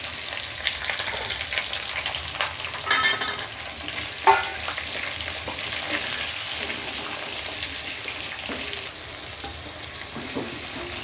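Peanuts and chopped onions fry in hot oil for Rayalaseema-style uggani bajji, giving a steady, close sizzle with occasional scraping and stirring sounds.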